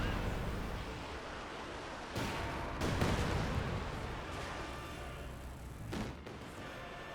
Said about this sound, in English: now we do have another Katyusha barrage coming on in